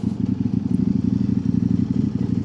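Kove 800X Pro adventure motorcycle, a 2025 model, running close by with a steady, throbbing engine rumble as it rides along, holding a fairly even level throughout.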